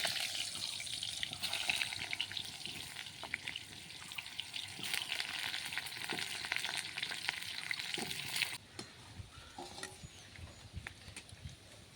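Potatoes fry in hot mustard oil in a wok, giving a loud, dense, steady sizzle that crackles for about eight seconds, then drops to a quieter simmer with a few faint clinks.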